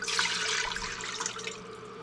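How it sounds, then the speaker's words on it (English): Water pours steadily into a pot for canning-pear brine syrup, a continuous splashing rush that stays loud and close for about two seconds and then eases slightly, with no talking. "the first thing I'm going to do is add 2 cups of water."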